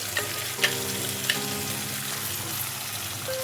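Cloves, cashews and melon seeds frying in oil for paneer masala curry: a steady, close hiss of sizzling with a few faint pops and clicks, and no voices.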